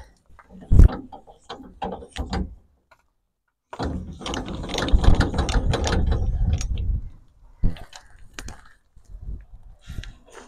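A trailer jockey wheel on a commercial trailer is wound by hand, giving bursts of ratcheting, clicking crank turns with a longer continuous winding stretch in the middle and short pauses between.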